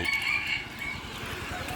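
A bantam rooster crows, its harmonic call standing out clearly near the start and then fading into a steady background hum.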